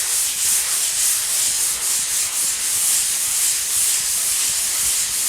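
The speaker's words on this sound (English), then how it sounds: "And then we'll just sand again." Continuous rhythmic sanding of epoxy primer on a Pontiac GTO car body, a loud abrasive hiss rubbing back and forth close by, with no voices.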